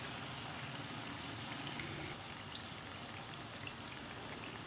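Wheat flour kapanya frying slowly in oil over a low flame, a faint, even crackle and patter like light rain, continuous and quiet with no other sounds.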